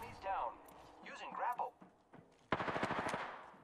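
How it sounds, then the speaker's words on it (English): Rapid automatic gunfire in the battle royale shooter Apex Legends, a loud close burst of evenly spaced shots following a voice speaking over the game. "The enemies are shooting at me."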